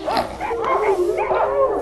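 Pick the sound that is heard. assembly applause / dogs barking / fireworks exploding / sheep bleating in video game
dogs barking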